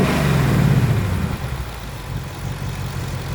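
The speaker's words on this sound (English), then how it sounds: "It kind of almost sound like the Hemi or whatever, the big muscle charger engine." A 2024 Ford Mustang GT V8 with performance pack revs with the hood open, a deep rumble swelling briefly and then settling back to a steady, lumpy idle close by.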